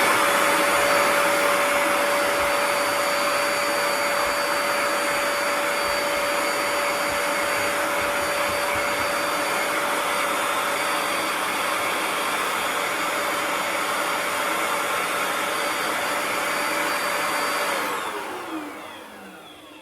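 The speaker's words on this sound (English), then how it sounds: "now we're all set with vacuuming off the crumbs" A Bissell ProHeat 2X Revolution Pet Pro carpet cleaner runs on its dry setting to vacuum up crumbs, a loud steady motor whine with a high tone that holds for most of the time, then winds down.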